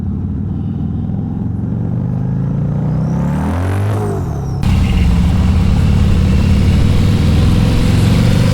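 A turbocharged Harley CVO motorcycle engine rumbles steadily while riding, loud and close, with a rising whine midway and wind rush afterward.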